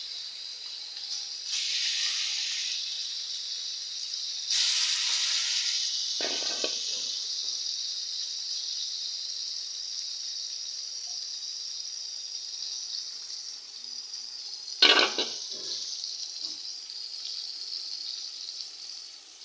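Pangas fish sizzles in hot oil in a pan, a steady bright hiss close by. Two sharper bursts of spattering break in briefly as pieces hit the oil.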